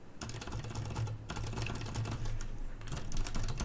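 Rapid, steady keystrokes on a Varmilo mechanical keyboard with silent red switches, a dense run of muted clicks close up, briefly pausing once before the typing resumes.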